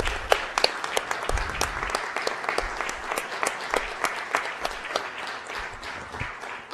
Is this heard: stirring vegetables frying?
no